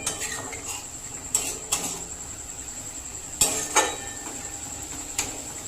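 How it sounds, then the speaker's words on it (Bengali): Papaya mohanbhog is stirred in a metal pan with a utensil, a series of sharp scraping clinks and knocks at irregular intervals, close and clear with no talking. "এরকমভাবে বেশ নাড়িয়ে নিতে হবে।"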